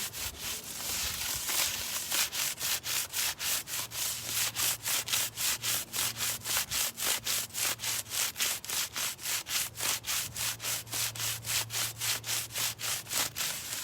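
Steel-wool SOS pads scrub back and forth with water, likely on a surface being stripped, in a fast, steady rhythm of close, rasping strokes, about three per second, continuing evenly throughout with no voices.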